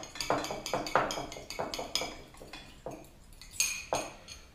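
Utensil whisking a Japanese soy sauce mixture in a bowl, a run of quick clinking, scraping strokes against the bowl with a steady rhythm, close and fairly clear with no talk.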